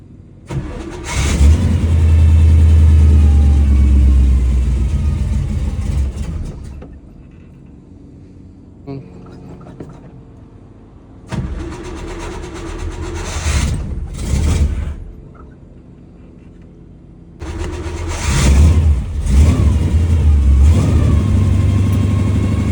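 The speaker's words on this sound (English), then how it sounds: "I pump it again and it'll usually start on the second try." A carbureted off-road vehicle engine with no choke hooked up fires and roars loudly, then settles to a rough idle before being revved twice more in strong surges. Voices are faintly present beneath the engine.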